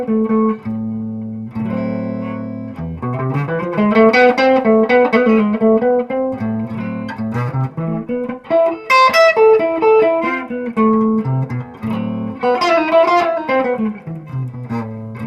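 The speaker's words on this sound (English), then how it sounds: "This is the sound of the 6-chord." Blues guitar, processed through effects with distortion and reverb, plays a swing-style phrase built on major and minor sixth chords, with sustained chords and melodic runs continuing steadily throughout at a moderate, full level with no talking.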